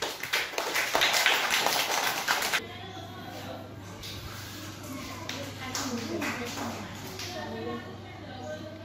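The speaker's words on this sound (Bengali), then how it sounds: "লাইমের জন্য একটা হাততালি জোরে" Loud group clapping for a child named Lime, dense and fast for about two and a half seconds, then stopping abruptly, leaving quieter room sound with a voice and a steady low hum.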